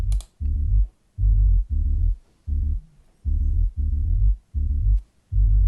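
Deep sub bass notes processed through Softube's Saturation Knob play in a short, halting sequence, each warm, slightly gritty tone separated by brief silences.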